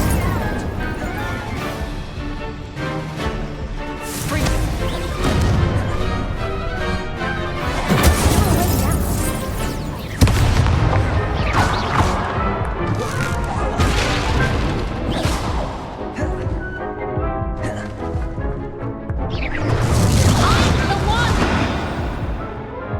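Incendio fire spells are cast during a Hogwarts Legacy duel, with repeated loud whooshing bursts and crashing impacts over dense combat noise and spoken lines.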